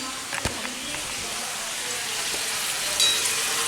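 Chicken frying in a pan while being stirred with a spoon, a soft steady sizzle with a few light scraping knocks, close and fairly quiet.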